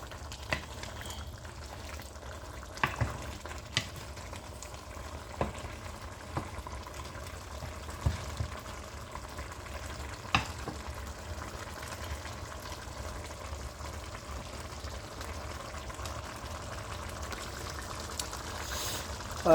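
Pumpkin seeds and meat stirred in a cooking pot, a soft low simmering bubble with faint scattered spoon clicks and scrapes, quiet and close, no voices.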